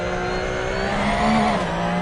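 A GT3 race car engine in a PS4 racing game at Imola, played on a Thrustmaster T300 wheel, drones at high revs, its pitch rising and falling slightly as it shifts, loud and continuous with no other sounds.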